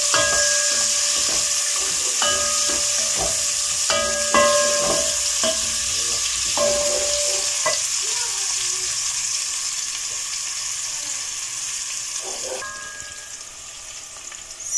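Onions sizzle and crackle steadily in hot oil in a pan, a close, continuous frying hiss with a few clinks and stirring sounds early on, no voices.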